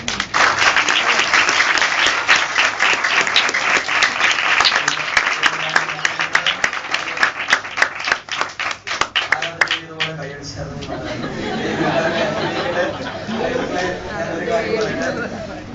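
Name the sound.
audience applauding for the pastor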